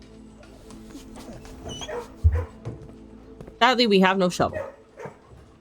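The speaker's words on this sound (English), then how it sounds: "Hello, puppy." A puppy in a kennel in the video game Blue Prince gives a short low bark and then a burst of high, wavering whimpers and yips, with someone talking over the quieter parts.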